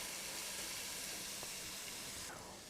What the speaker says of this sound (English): Once the onion and garlic start frying a little bit